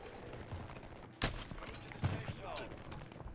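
Gunfire in Call of Duty Warzone: a couple of sharp shots stand out against a busy bed of game noise. The shots are fairly faint and mixed with voices.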